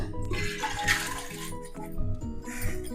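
Three cups of water splash and gurgle as they are poured into a pot of washed dal, in uneven bursts, close and fairly quiet.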